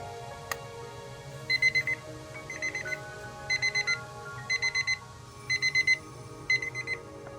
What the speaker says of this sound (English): let's check out what the alarm sounds like